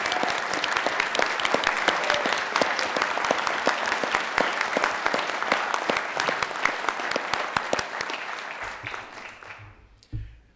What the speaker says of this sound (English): So please join me in a round of applause for Tim and his extraordinary leadership.